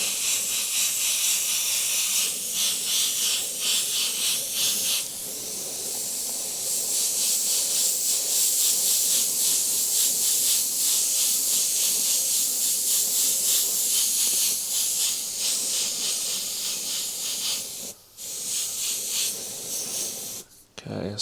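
A steady, breathy airbrush hiss sprays paint through templates onto canvas continuously at close range, pausing briefly twice near the end.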